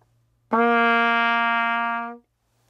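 A single sustained open C trumpet note, clear and bright, held for under two seconds and then cut off cleanly, alone in a quiet room.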